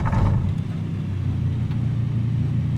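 Light aircraft propeller engine running at Darley Moor, a steady loud low rumble with a brief louder burst at the start, settling into an even droning idle.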